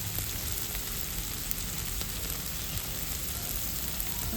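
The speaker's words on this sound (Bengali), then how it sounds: "ভাজতে বসিয়েছি আপাতত" Puffed rice and egg fry in a pan with a steady, soft crackling sizzle that holds evenly throughout, close up and alone without voices.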